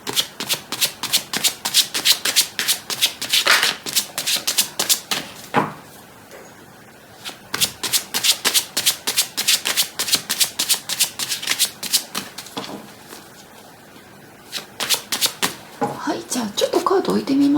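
Tarot cards shuffled for a reading, long bursts of rapid papery riffling repeated several times with short pauses between, close and fairly loud.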